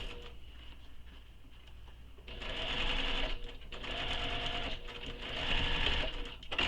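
Sewing machine re-stitching a seam on a Mysa crossbody bag, running in steady whirring bursts after a quieter start, close and fairly loud with brief pauses between runs.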